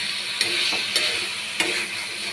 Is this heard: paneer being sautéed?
yes